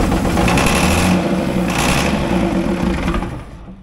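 An old International wheel loader that had sat for eight years cranks on ether, its engine churning loudly and steadily at close range before easing off at the end.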